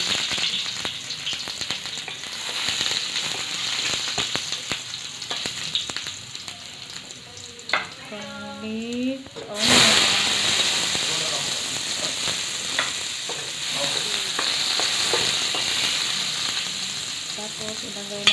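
Garlic frying in a small amount of oil in a home kitchen gives a steady, bright sizzle throughout, with stirring, a short stretch of talk partway through, and a louder hiss after that.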